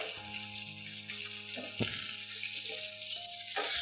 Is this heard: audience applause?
no